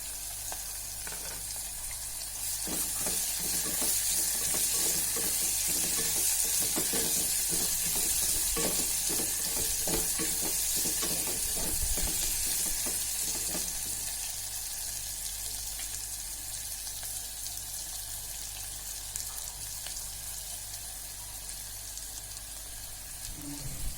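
Garlic and ginger sizzle steadily in a pan while cooking veg pulao, a continuous bright frying hiss with occasional stirring clatter, close and fairly loud throughout, no talking.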